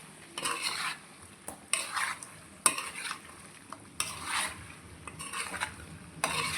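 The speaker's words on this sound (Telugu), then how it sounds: "ఇప్పుడు ఈ ఆయిల్ అనేది చికెన్లో బాగా ఫ్రై అవ్వాలండి." Chicken pieces frying in hot oil for gongura pickle, heard as repeated bursts of stirring and scraping against the pan over a low, quiet sizzle, with pauses between strokes.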